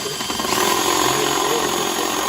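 A power drill spins steadily during a sunroof water leak repair on a 2006 Chevrolet Impala, a loud continuous whirring drone held for a couple of seconds without talk.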